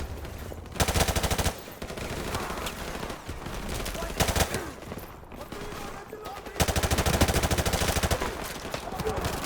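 Bursts of rapid gunfire crackle repeatedly over a dense soundscape in the video game Modern Warfare Remastered, with loud volleys near the start and again toward the end.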